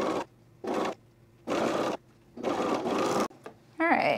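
Sewing machine stitching an elastic band onto a camisole armhole, running in several short bursts separated by pauses, close and clear, with a brief voice near the end.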